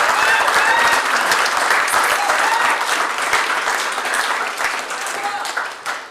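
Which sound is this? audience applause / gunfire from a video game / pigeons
audience applause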